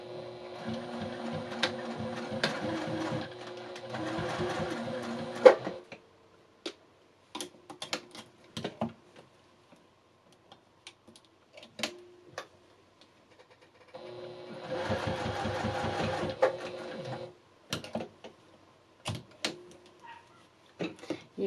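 Sewing machine stitching through very thick fabric for a scissor case, two rapid whirring runs of stitching separated by a pause filled with sparse clicks and handling taps, close and moderately loud.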